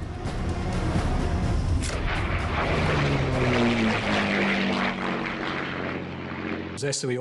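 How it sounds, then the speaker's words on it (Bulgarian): Reconnaissance propeller planes drone overhead in a World War II setting, a loud steady engine hum with shifting pitch that fades near the end. "разузнавателни самолети го претърсват по въздух"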